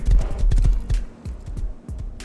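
Horse hooves clop rapidly and loudly up close in the survival game Rust, a quick irregular run of heavy thuds that slows into spaced steps.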